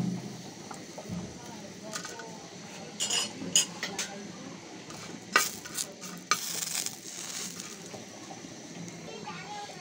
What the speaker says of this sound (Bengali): এখন আমি শুটকিটা ভেজে নেব।